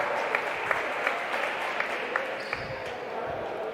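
Crowd applause at a varsity high school basketball game, a steady wash of clapping from the stands with sharper individual claps popping out, moderately loud and sustained throughout.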